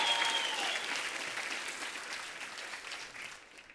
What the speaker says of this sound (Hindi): प्लीज जोरदार तालियां सर के लिए।